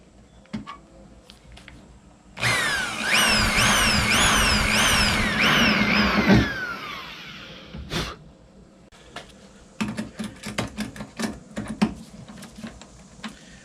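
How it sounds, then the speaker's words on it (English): A power drill whirs at high speed for several seconds while drilling a VW Beetle trunk seal guide rail channel, its pitch rising and falling, followed by a series of sharp clicks and taps. "Drill, drill."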